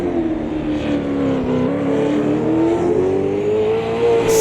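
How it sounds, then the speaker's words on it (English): V8 race car engines roar in the Automobilista 2 video game during a race at Adelaide, with one loud, close engine holding a steady rising drone over a background of other cars. "The sound of the V8s"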